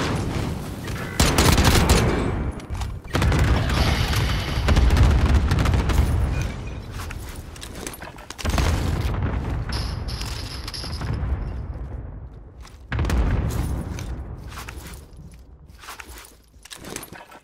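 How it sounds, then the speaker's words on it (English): Cluster strike explosions in a video game, a series of loud, heavy blasts in separate waves with crackling debris and rumbling tails, and quieter gaps between the bursts. "Enemy cluster strike incoming."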